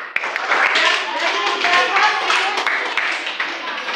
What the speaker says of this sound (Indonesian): Jadi untuk kelompok 1, 2, 3, 4 silakan tepuk tangan.